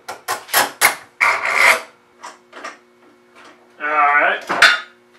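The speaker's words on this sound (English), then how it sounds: "And we'll throw a few clamps on for good measure." Clamps are fitted onto a freshly glued wooden board in a woodworking shop, giving a short burst of close metallic clanks, scraping and ratcheting clicks in quick irregular bursts.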